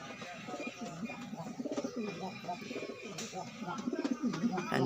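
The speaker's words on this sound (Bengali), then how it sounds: "ভিতরে একটা কবুতর ডাকাডাকি করতেছে" Pigeons kept in a home loft coo in repeated throaty, rolling phrases, close and fairly soft, with the calls growing more frequent toward the end.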